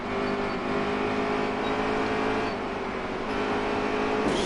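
A NASCAR race car engine from the NASCAR Heat 3 video game drones loud and steady near full throttle at ISM Raceway, with a brief rise in pitch toward the end and no voices.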